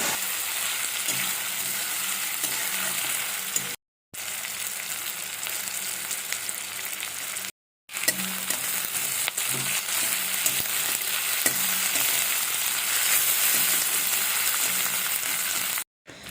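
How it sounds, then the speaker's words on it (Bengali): Loitta fish cooking with ginger, tomato and green chillies sizzles steadily in hot oil while being stirred, with soft scraping knocks and two brief cuts to silence. "এবার এই সমস্তটাকে একটু ভালো করে কষে নিতে হবে"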